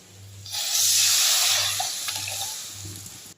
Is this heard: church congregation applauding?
no